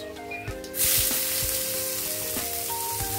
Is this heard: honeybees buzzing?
no